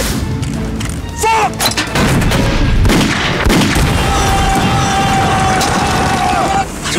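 Artillery shells with delayed fuses firing and bursting in a wartime battle scene: heavy booms and rolling explosions crowd a dense, loud roar, with a high whistle streaking across near the end.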